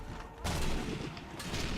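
Sharp gunfire bursts from the video game Sniper Elite 3, heard over a dense, noisy game soundscape and loud in the foreground.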